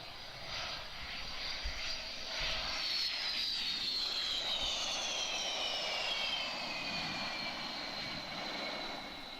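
A Sukhoi Su-27 jet at an air display roars past at a distance, a steady broad rumble with a high whine that sweeps slowly downward over several seconds.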